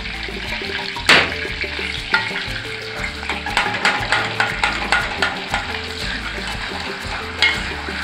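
Tomato paste fries in hot oil in a pot for Haitian sauce, giving a steady loud sizzle with repeated stirring scrapes and one sharp burst near the start, with no talking.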